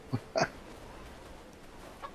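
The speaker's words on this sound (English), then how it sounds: "this is a chick." A few soft, brief peeping chirps from a small chick on a farm in the medieval survival game Bellwright, two close together then one fainter, quiet against a low background.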